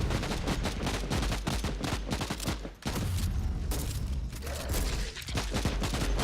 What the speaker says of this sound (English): I'm sorry, it's a shotgun.